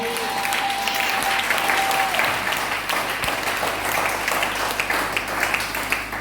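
A church congregation applauds steadily and loudly throughout, a dense wash of clapping with some cheering and raised voices mixed in.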